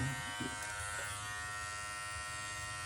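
An electric beard trimmer fitted with a number 1 guard buzzes steadily at close range, a soft continuous hum with a few brief scraping touches near the start.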